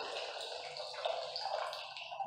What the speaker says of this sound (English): here what I'm doing is actually pouring another hot water to make 1 gallon of water